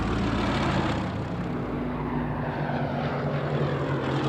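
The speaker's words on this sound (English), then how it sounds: "4 fighter squadrons from 11 Group engage another raid on Dover by about 100 enemy aircraft" WWII fighter aircraft in the Battle of Britain, with RAF squadrons engaging a raid over Dover. Propeller engines drone loud and unbroken, a thick, steady roar with slight wavering tones and no speech.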